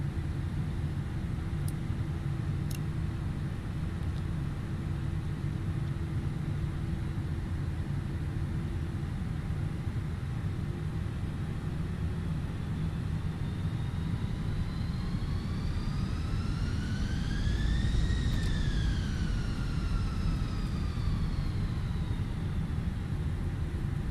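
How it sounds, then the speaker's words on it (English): easyJet airliner powering up for takeoff in Microsoft Flight Simulator, a steady loud jet engine roar with rising then falling whine tones as thrust builds, continuous and unbroken, no talking. "Okay guys, let's go for takeoff"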